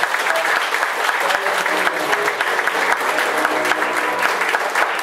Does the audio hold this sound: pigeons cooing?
no